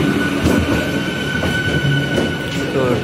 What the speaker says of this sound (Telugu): వెళ్ళిపోతుంది మన ట్రైన్.